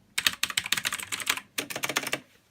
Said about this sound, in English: as you can hear, they're very nice clicky switches